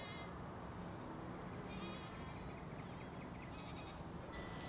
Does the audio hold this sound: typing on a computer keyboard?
no